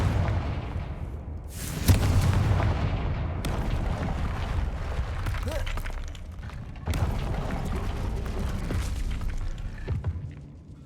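A Confringo fire spell explodes in the Hogwarts Legacy video game, a booming burst followed by a rumbling, crackling roar and a second blast, loud and continuous, with no voices.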